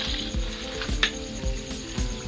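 Garlic frying in a pan alongside peanuts, a steady close sizzle with soft periodic scraping strokes of stirring roughly every half second, no voices.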